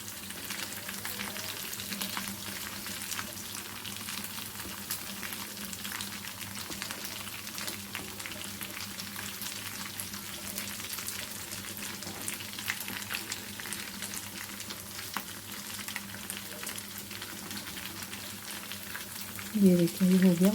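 Potato tikki patties frying in oil in a pan, a steady close sizzle and crackle running throughout with faint stirring noises, louder at the very end.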